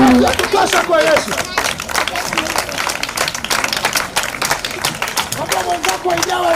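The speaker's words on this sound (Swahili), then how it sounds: "Hebu ongeza makofi ya kutosha kwa Yesu." A large crowd at an outdoor gospel crusade in Keumbu market claps for Jesus, sharp rhythmic hand claps and cheering mixed with babble and a voice speaking over the din.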